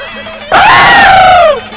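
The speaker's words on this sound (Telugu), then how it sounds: "వీడెందుకండి జురాసిక్ పార్క్ సినిమా చూసిన లెవెల్లో అరుస్తున్నాడు?" A man lets out a single loud, sustained scream in a Telugu film scene. The cry rises sharply, holds for about a second and then trails off, standing alone and close.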